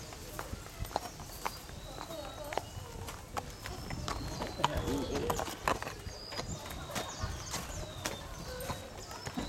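Horse hooves clip-clop at a steady walking pace, close by during a horse ride, under ongoing outdoor chatter and background voices.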